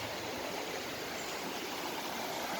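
Clear creek water flows in a steady, faint broadband rush with no breaks or other sounds.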